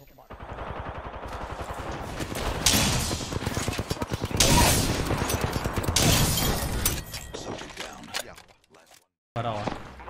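Rapid gunfire from the battle royale game Apex Legends, dense bursts and repeated shots running almost continuously, with a short gap near the end, heard alongside players talking.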